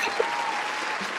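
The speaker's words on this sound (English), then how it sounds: "Round of applause, everyone." A short burst of studio-style applause sound effect, many hands clapping evenly at moderate volume for just over a second.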